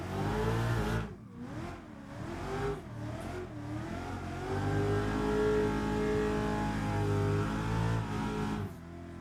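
A car engine revs hard on a power-over drift entry with rising and falling pitch, then holds a loud, steady roar at high revs, close and continuous.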